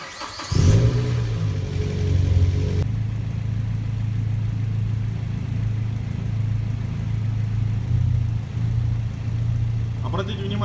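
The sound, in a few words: car engine running with air conditioner switched on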